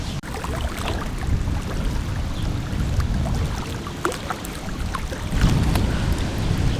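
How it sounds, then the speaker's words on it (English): Waves lapping at a lake shore in a steady rumbling wash, close by, with wind buffeting the microphone and occasional small splashes and clicks. "it is so calming to listen to these waves."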